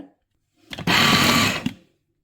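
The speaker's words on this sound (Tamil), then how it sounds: "அப்படியாச்சு பிளெண்ட் பண்ணோம் பார்க்கலாம்" A blender mixing chapati dough whirs loudly for about a second, a steady buzzing drone that starts and stops abruptly with faint quiet before and after.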